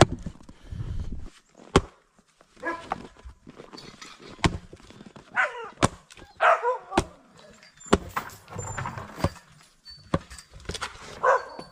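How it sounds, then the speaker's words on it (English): A beaver carcass is hacked into chunks outdoors in winter to feed sled dogs, making a series of sharp, irregular chopping thuds, with dogs barking nearby and someone talking in between. "Chop it in half and then chunk it all up into 8 chunks."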